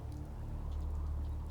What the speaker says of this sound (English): I can hear it raining